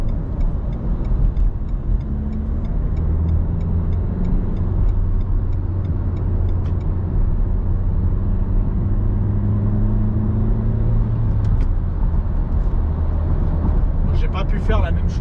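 A 2018 Renault Kadjar dCi 110 diesel pulling out to overtake a loaded van: a loud, steady cabin engine drone and road rumble runs throughout, with a voice talking over it.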